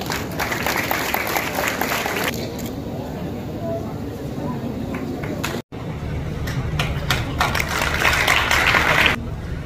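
Audience applause at the Basohli Mahotsav, a public cultural festival, with dense crowd clapping that thins out midway and then swells again, a voice speaking over parts of it.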